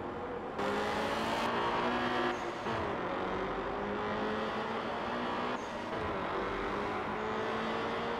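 Car engine in the Night-Runners street-racing game revs up and drops through several gear shifts, pitch climbing then falling back at each change, loud and close with no talk.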